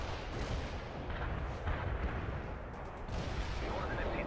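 Artillery strike in the World in Conflict video game, a continuous dense rumble of distant shelling and booming impacts that holds loud throughout, with faint voices mixed underneath.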